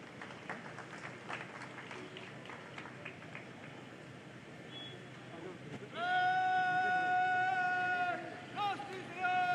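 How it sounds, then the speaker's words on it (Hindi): A crowd applauds to welcome Uttarakhand Chief Minister Trivendra Singh Rawat at a public event in the state capital. A dense, steady patter runs under talk, then gives way to sustained band-like tones. "एक बार बहुत जोरदार ताली से आपका स्वागत और अभिनंदन हम यहाँ पर करते हैं"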